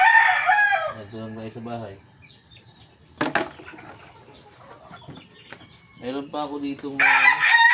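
Roosters crow loudly and close by in a backyard farm, one at the start and another near the end. Someone talks in between, with fainter clucks and a sharp knock in the middle.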